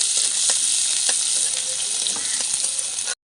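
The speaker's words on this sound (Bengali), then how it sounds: "এবার দিয়ে দেবো পেঁয়াজ কুচি। আর পেঁয়াজ কুচিটা ভালো করে ভেজে নিতে হবে।" Chopped onions frying in hot refined oil, cooked for a street-style chicken momo filling, give a loud, steady sizzle with scattered crackles and pops that runs for about three seconds and then cuts off abruptly.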